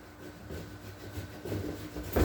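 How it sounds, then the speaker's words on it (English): Hand saw cutting through a Meyer lemon tree branch during pruning, giving a quiet, uneven rasping of wood that grows louder toward the end of the cut. "So that's why I'm using the saw."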